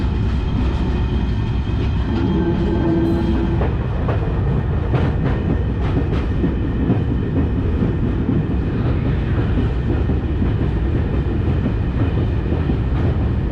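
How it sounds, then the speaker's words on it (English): A train rumbles steadily along the tracks with a constant low roar, occasional rattles and clanks, and a brief squeal early on. "The train is not going fast."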